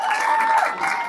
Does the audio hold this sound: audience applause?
yes